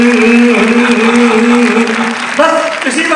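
An audience claps on cue at a live Hindi comedy show, producing loud, dense clapping from a crowd, with a voice speaking over it.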